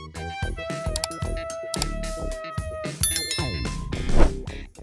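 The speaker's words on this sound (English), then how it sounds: "make sure to hit the notification bell" A notification bell sound effect rings out as bright, ringing chimes and dings over a short musical flourish, several tones struck in sequence and fading, with no speech.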